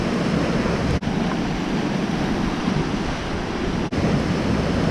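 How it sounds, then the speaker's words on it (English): Sea waves wash continuously onto the beach at Malia, Crete, a loud, steady broadband roar with wind buffeting the microphone and two brief dropouts, no voices. "Now I know the waves look a little crazy right now"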